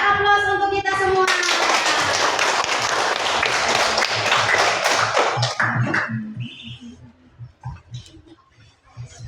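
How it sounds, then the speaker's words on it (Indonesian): Children in a classroom clap together in a loud, dense burst of applause lasting several seconds, then it thins into scattered claps and fades, with a young voice briefly audible at the start. "Beri aplaus untuk kita semua."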